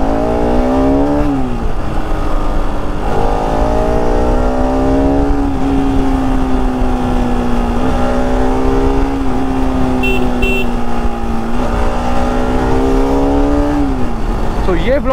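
An RS 200 sports bike engine revs while riding on Indian roads, a loud, close, continuous drone that rises and falls with the throttle through several gear changes, with a brief horn beep partway through.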